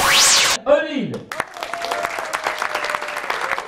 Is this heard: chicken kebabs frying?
no